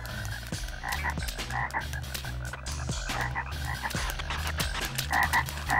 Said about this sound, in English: They're just frogs.